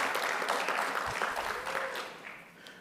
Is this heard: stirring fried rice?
no